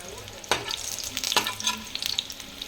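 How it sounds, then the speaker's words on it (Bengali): Eggplant slices frying lightly in hot oil, a steady soft sizzle with a couple of sharper crackles and spatula scrapes near the start and middle. "এরকম হালকা হালকা ভেজে জাস্ট উঠিয়ে নেব"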